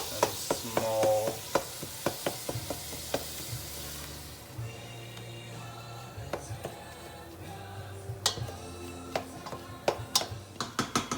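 Ground beef fries in a pan with a steady sizzle while a utensil breaks it into small pieces, with sharp taps and scrapes of the spoon against the pan, close up and without talking.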